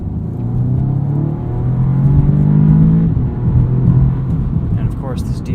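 A 2016 Audi S3 sedan with a DSG gearbox drives and accelerates, its engine drone rising and falling in pitch with steady road noise, heard from inside the car under a voice.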